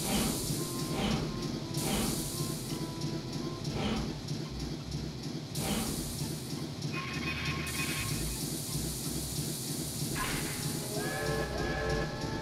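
A train in Banjo-Tooie pulls in with steady rumbling, hissing steam and clattering wheels, a continuous loud mechanical wash ending in a rising squeal of brakes, with game music underneath.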